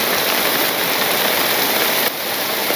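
Heavy rain pours down over a Bangladeshi village, a dense, steady hiss close by with no pauses, dipping slightly near the end before resuming at full strength; no voices.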